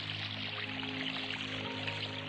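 Quiet, steady rush of the Radika river, a clean, snow-fed, cold mountain river in Western Macedonia, flowing continuously with a faint low hum underneath.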